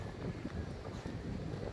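Short burst of wind buffeting the microphone on a mountain hike at Mount Tapyas, Coron, Palawan, a low, rough rumble with no voices.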